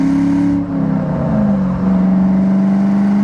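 A 1996 Ford Mustang Cobra engine drones loudly up close, pitch dipping briefly through a gear shift before climbing again under acceleration.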